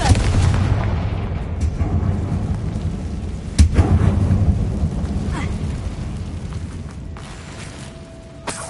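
A Confringo spell blast goes off in the Hogwarts Legacy video game inside a dark mine, with a sharp booming burst partway through that stands out over a rumbling background.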